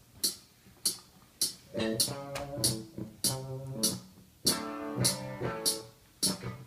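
Drums and guitar play together in sync in a home recording. Sharp drum hits tick at a steady pulse over quieter strummed guitar chords, and the overall level is fairly faint.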